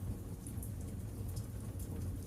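Heavy nighttime rain pours in a dense, steady hiss with a low rumbling undertone, continuous and even at a moderate level.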